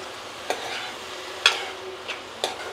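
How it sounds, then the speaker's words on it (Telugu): Onion greens deep frying in oil, a steady soft sizzle with a few sharp clinks of a stirring utensil against the pan, close by with no talking. "మంచిగా బాగా ఆయిల్లో డీప్ ఫ్రై కావాలన్నమాట, మంచిగా వేగాలి."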